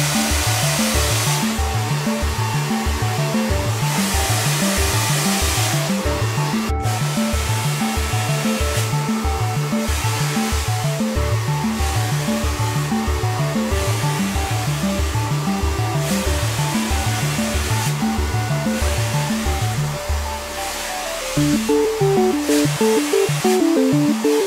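A hand-held hair dryer blows steadily while drying and styling hair, loud and close, with a rhythmic pulsing whir throughout and a brief dip and change in pitch near the end.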